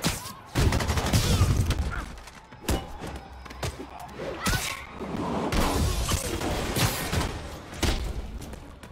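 Gunfire in Spider-Man Remastered on PS5, with dense bursts of shots, impacts and shattering debris in a busy, loud action scene, and brief shouted voices mixed in.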